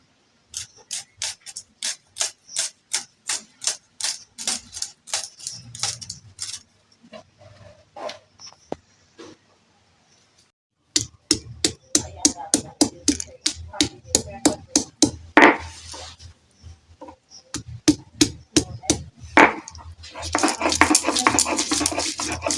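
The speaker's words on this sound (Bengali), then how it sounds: "পেঁয়াজটা কেটে নেবো এইভাবে" A knife chops an onion on a cutting board, close and crisp, in quick regular strikes that come in runs with short pauses and one longer break, with faint talk in places.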